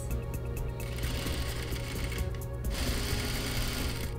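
A sewing machine runs steadily while stitching the underarm seam of a sleeve, a close, continuous mechanical whir with rapid rhythmic clatter and no talking.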